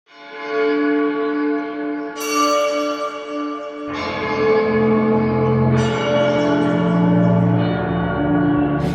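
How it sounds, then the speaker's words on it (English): Synthesized church bells blended with birdsong ring out in layered, sustained harmonic tones, loud and close. New strikes arrive every couple of seconds, slightly out of tune with one another, and a low rumble fills in beneath them partway through. "We've got our birds and bells"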